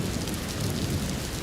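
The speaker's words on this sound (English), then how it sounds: "As if on cue, it started raining again." Steady jungle rain hisses continuously, an even wash of falling drops close by with no voices.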